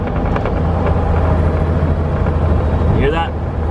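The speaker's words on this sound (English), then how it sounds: "That's my engine brake, if you guys are wondering, because I've always been wanting to hear my engine brake." A truck's compression engine brake gives a steady, loud, low rumble that drones throughout, with a voice talking over it inside the cab.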